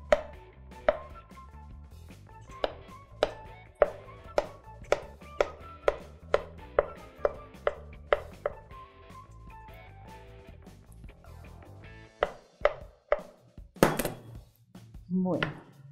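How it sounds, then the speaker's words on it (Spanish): A knife slices vegetables thinly on a board for quinoa salad, crisp evenly spaced chops in a steady rhythm, then a pause and a few more cuts followed by a clatter, with a voice talking under it. "Aquí lo van a cortar delgadito,"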